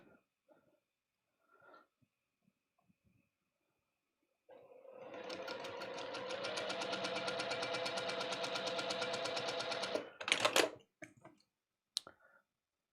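A sewing machine stitches fabric pieces for a quilt block, running in one steady buzzing burst of rapid needle clatter for several seconds, then stopping with a few clicks, preceded by faint quiet sounds.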